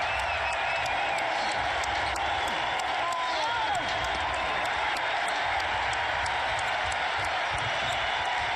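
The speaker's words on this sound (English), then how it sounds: "a standing ovation from this Wizards crowd" Washington Wizards arena crowd giving Michael Jordan a standing ovation after his 30,000th career point, a sustained roar of applause and cheering in a big NBA arena under a commentator's voice.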